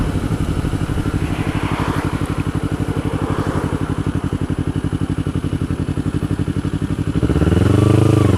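Motorcycle engine running steadily on a straight park road with a 25 mph limit, a loud close pulsing drone throughout that swells louder near the end, with no talking.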